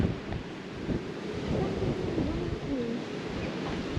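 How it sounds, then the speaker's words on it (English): Wind gusting outdoors on a coastal village walk in Cornwall, a steady broadband rush with low rumbling buffets across the whole stretch, and faint bird calls in the background. "oh, there's a wind picking up."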